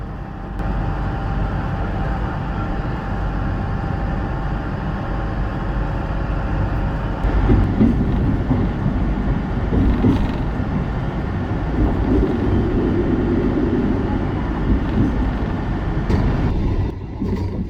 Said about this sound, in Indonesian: kereta api Malabar diberangkatkan kembali menuju ke Bandung